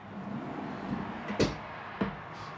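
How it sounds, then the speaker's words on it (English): Soft-close kitchen drawers in a Riverstone 442MC luxury fifth-wheel RV sliding shut, two muted thuds about half a second apart over faint room noise. "Soft close on those."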